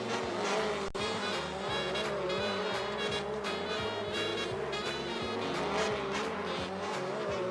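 Speedway race cars, including car number 99, race at Rowley Park with a continuous loud, droning engine roar, repeated rising and falling revs, and brief tire squeal as they pass close by.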